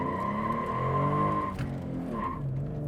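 Ford Mustang with a 3.7 V6 spinning its tires on hard acceleration, a steady loud engine drone with a high tire squeal that fades near the middle and returns briefly.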